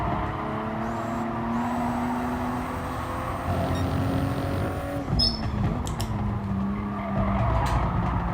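Tyres on a GR Supra screeching in GT Sport, a long sustained tyre squeal that bends in pitch over a steady engine drone, with racing cars roaring nearby.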